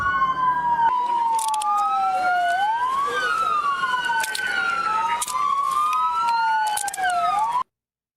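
Police car siren wailing continuously nearby, a loud rising and falling tone sweeping up and down across the whole stretch before cutting off abruptly near the end, with faint traffic underneath.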